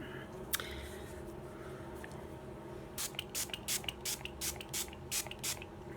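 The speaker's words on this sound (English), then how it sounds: "I'm going to spray some setting spray." Ciaté makeup setting spray is pumped in a quick series of about eight short, soft hissing bursts close to the mic, following a single earlier spritz, in a quiet room.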